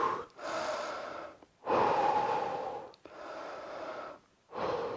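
Heavy rhythmic breathing during a home fat-loss workout, long loud inhale-exhale cycles repeating roughly every one and a half seconds, close and alone without speech.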